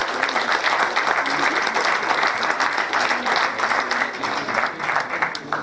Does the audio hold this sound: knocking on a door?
no